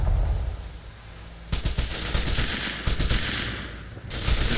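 Machine gun fire in a military simulator game: after a quieter lead-in, rapid bursts of loud, close shots rattle in short rhythmic strings with brief pauses between them.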